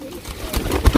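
A flying pigeon gives a brief low coo, close by, in a short burst with some rustling noise.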